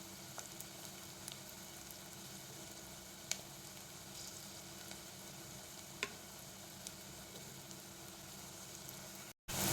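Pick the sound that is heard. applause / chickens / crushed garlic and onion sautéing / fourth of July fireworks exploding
crushed garlic and onion sautéing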